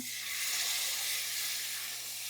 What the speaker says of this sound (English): we're going to pour the turkey stock in here.